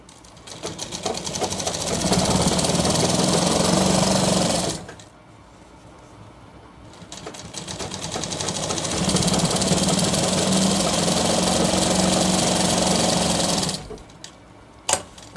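A sewing machine double-stitches a shirt in two loud, close runs of rapid mechanical whirring separated by a quiet pause, each run stopping abruptly, with a small clack at the end.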